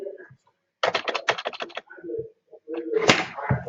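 Keys clatter on a computer keyboard in quick bursts of close, crisp taps with short pauses between them, as a message is typed.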